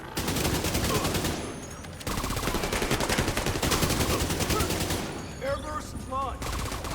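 Sustained automatic gunfire in The Division 2, dense rattling bursts from several weapons close by, briefly easing before resuming, with game radio chatter and electronic tones mixed in.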